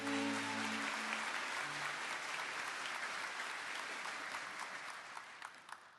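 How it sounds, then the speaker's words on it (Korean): Audience applause for award recipients at a police inspector appointment ceremony: a broad wash of crowd clapping sustained for six seconds, fading slightly near the end, with a brief voice at the start. "수상자들에게 다시 한번 큰 박수 부탁드립니다"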